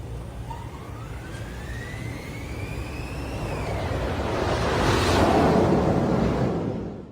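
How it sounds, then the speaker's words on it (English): A roller coaster launch: a rising mechanical whine climbs over a few seconds, then a loud broad rushing whoosh swells and fades as the train sweeps past. "the launch sound on this roller coaster is absolutely amazing"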